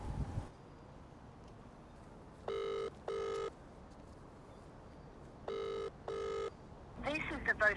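A telephone ringing back on an outgoing call, two pairs of double ring tones heard through the handset with a pause between them, fairly clear over quiet background hiss, and a brief voice starting at the end.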